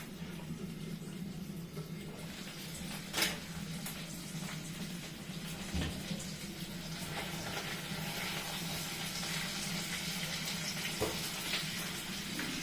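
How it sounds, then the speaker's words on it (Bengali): Grated radish being squeezed by hand to press out its water for radish parathas, a quiet, continuous trickle of liquid dripping and splashing close by, with a few soft handling knocks. "দেখো আমি কিভাবে মূলোটাকে নিয়ে এটা চিপে, দেখো জল বেরোচ্ছে কত।"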